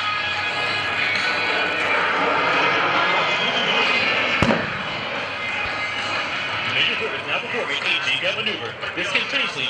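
An A-10 Thunderbolt II twin-engine jet roars steadily overhead during an airshow demonstration, a broad sustained engine drone with a sharp crack midway, under a faint public-address voice.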